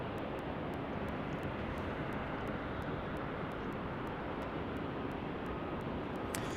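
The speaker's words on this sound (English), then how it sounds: "I can see our UPS in the distance for runway 35" A UPS cargo plane approaching runway 35 at Salt Lake City airport produces a steady, broad roar of jet engine noise with no voices.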